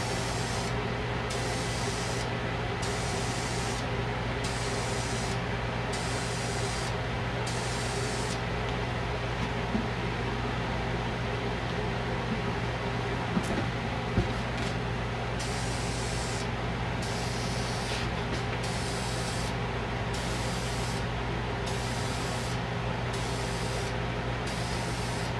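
Continuous hiss of spray painting a Philco 38-7CS part during restoration, in repeated short bursts, with a steady mechanical hum underneath.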